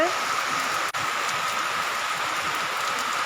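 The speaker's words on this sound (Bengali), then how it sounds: "খুব সুন্দর বৃষ্টি হচ্ছে" Heavy rain falls outside as a dense, even hiss of drops on surfaces that holds steady throughout, heard from close to a doorway with no talking.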